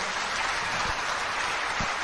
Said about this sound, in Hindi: आप जोरदार तालियों से इनका स्वागत कर सकते हैं।